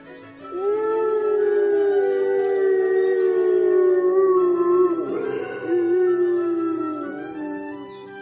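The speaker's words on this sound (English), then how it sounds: "The remaining members of the pack are informed about the success of the hunt with a piercing and loud howl" A long, drawn-out wolf howl rises and holds a steady pitch, falters briefly, then resumes, with a second fainter howl layered beneath.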